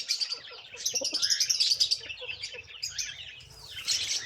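Young ornamental chicken chicks chirping in quick, high, repeated peeps, fairly close and lively, with a brief burst of louder calls near the end.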